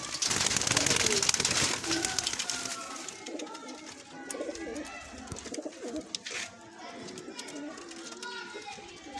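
Breeder pigeons coo in a loft, soft repeated burbling calls that rise and fall close by, with children's voices and other talk mixed in throughout.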